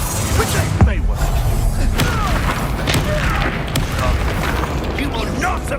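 Confringo blasting spell explosions in the Hogwarts Legacy game: loud booming impacts and sharp cracks mixed with magical whooshes and clanking battle effects, continuous and close, with voices calling out over the fight.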